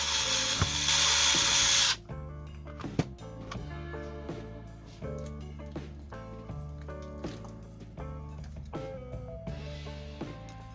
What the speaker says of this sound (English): inside to drill a hole right here in order to attach this part in the strongest way